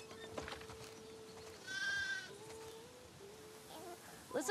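A sheep bleats once in The Last of Us Part 2 video game, a single wavering cry at the farm lasting under a second, set against quiet ambience with a faint steady tone and small clicks.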